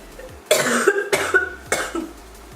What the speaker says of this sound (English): Oh my god, my cough.